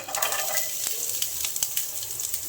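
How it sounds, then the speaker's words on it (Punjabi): Chopped onion dropped into hot oil for a savory vermicelli dish sends up a steady, bright sizzle with scattered crackling pops, close and continuous, no voices. "ਇਸ ਤਰੀਕੇ ਨਾਲ ਤੇ ਪਾਵਾਂਗੇ ਜੀ ਪਿਆਜ਼"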